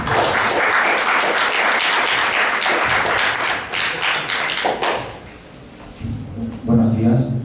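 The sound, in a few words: applause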